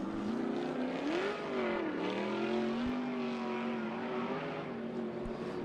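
Sprint car engine on the Knoxville dirt oval during USAC Cornbelt Clash qualifying, a loud continuous drone whose pitch rises and falls as the car laps, steady throughout with no talk.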